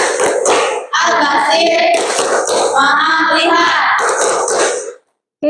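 Children do a rhythmic clapping chant of the Asmaul Husna, with sung voices and hand claps forming a steady, loud, close patterned chant that ends abruptly.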